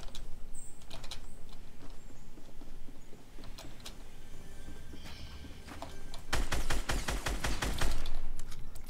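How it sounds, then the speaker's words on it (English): Gunfire in the video game Fortnite: scattered faint shots and clicks early on, then a louder rapid burst of closely spaced automatic shots near the end. "What did you just shoot me with?"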